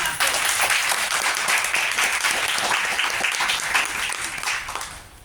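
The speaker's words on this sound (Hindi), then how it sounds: "ताली हो जाती है।" An audience breaks into steady applause at a talk on sanitary pads, a dense, even roar of many clapping hands that holds strong, then fades toward the end.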